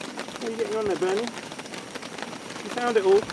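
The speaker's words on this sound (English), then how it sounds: "Oh, actually, it's sort of half snow, half rain." Mixed rain and snow pattering steadily on a mountain camp during a snowstorm, a soft continuous patter with a voice speaking over it in places.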